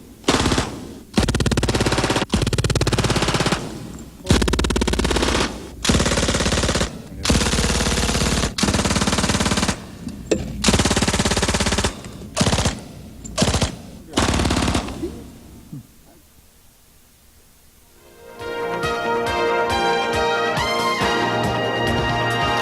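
Rapid bursts of machine gun fire from a rented automatic weapon fed by a 20-round magazine or 50-round drum at a shooting event, loud and close, about a dozen bursts in quick succession, then a pause and music.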